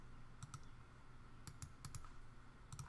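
Typing on a computer keyboard while editing text layers in Blender, heard as a few quiet pairs of clicky keystrokes spread over a few seconds against a low steady background hum.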